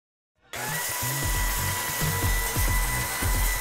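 A loud, continuous power-tool whine starts abruptly after a brief silence, with steady high buzzing and rough low-frequency chatter as it cuts.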